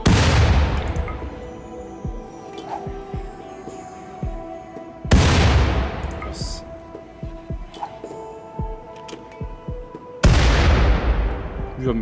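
Heavy shell explosions in RimWorld, three big booming blasts about five seconds apart, each with a long rumbling decay, over scattered smaller thuds and a steady background hum.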